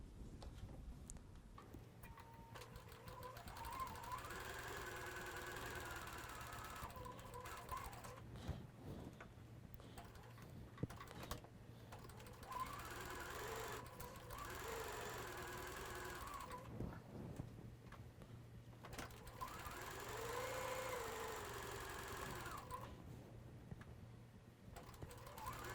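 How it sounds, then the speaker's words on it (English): A sewing machine chain-pieces fabric blocks in long, steady runs of fast mechanical stitching, quiet and close, pausing briefly between pieces. "Let's run over to our sewing machine, and I'm actually going to start with these three, and we're going to sew all of these all at the same time."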